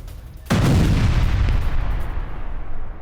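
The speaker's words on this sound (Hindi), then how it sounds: "रूसी फोर्सेस पर हाइमार्स से हमला।" A HIMARS missile strike on Russian forces in Donetsk lands as one sudden, heavy blast that rolls into a long, rumbling decay and lingers loudly to the end, with no talking.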